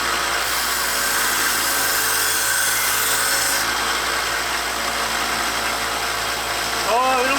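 A kitchen knife is ground on a motorized sharpening machine, its steady loud engine-like whir running throughout with scraping texture, and a brief higher squeal near the end.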